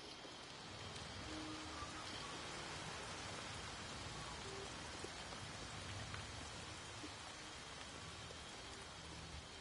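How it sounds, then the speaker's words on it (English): Steady rain patters down evenly on a surface, a constant soft hiss with scattered drops, faint and uninterrupted. "Oh, lovely. It's raining now."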